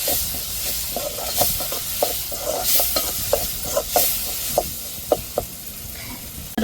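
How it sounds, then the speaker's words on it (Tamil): Ginger, garlic, tomato and onion are sautéed together in a pan. A spatula scrapes at a steady rhythm over a continuous sizzle, each stroke sharp and close. "இப்போ இஞ்சி பூண்டை நல்லா தக்காளி வெங்காயத்தோடு சேர்த்து வதக்கி விட்டுக்கிறோம்"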